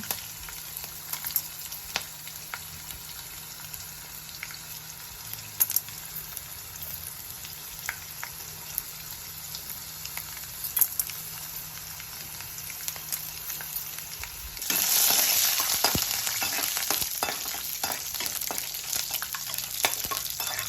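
Peanuts and chana dal frying in a pan, a steady crackling sizzle with light spatula scrapes that swells noticeably louder and hissier partway through, close by with no voices.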